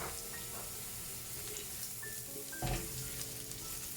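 Sliced curry leaves with black chana crackle and sizzle in hot oil, a steady frying hiss with a sharper burst of spitting near the middle, fairly close.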